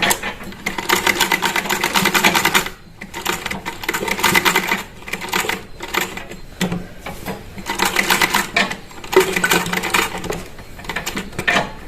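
A sewing machine stitches a baby girl's kurti, its motor whirring loudly in bursts of a few seconds with brief pauses between runs, close and alone with no talking.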